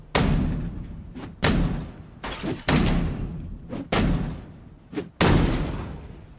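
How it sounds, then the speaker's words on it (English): Heavy wooden doors slam repeatedly in Project Zomboid, five or six loud thuds at irregular intervals, each followed by a short decaying rumble, close and prominent with no talk. "It's called a door."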